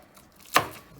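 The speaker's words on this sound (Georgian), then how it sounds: "ჩვეულებრივად ამას შუაში ვჭრი, მე ამას ვაკუცმაცებ ესე შუაში" A single sharp knife chop through a green tomato being cut in half on a board for pickling, one close, crisp thud in a quiet kitchen.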